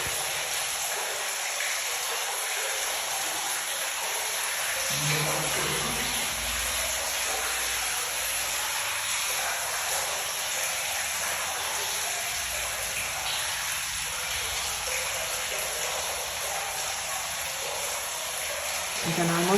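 Rainwater pours steadily from roof spouting into a cistern, a continuous rushing, splashing wash of water that stays fairly loud and unbroken throughout.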